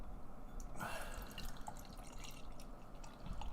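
Hazy triple IPA beer being poured into a glass, a steady liquid gush and fizz throughout, close and moderately loud with no talking.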